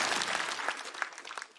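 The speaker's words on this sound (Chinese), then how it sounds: "掌声再给宋万博" Audience applause for stand-up comedian Song Wanbo at a comedy competition show, a steady patter of clapping that swells briefly and fades toward the end, with no voices over it.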